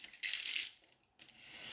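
Scissors snipping off surplus paper from a handmade recipe folio, two short bursts of crisp cutting a moment apart, close and quiet with no talking.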